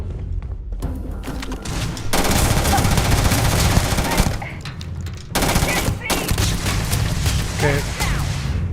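Sustained automatic gunfire from a weapon in the video game Starfield, loud and dense with dull booming impacts, cutting out briefly twice before resuming.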